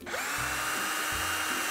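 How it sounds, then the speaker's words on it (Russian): Cordless screwdriver whirring as it drives screws into facade panels on a house exterior, a steady close motor hum with a couple of speed changes and no talk. "Очень удобно, когда пользуешься двумя шуруповертами"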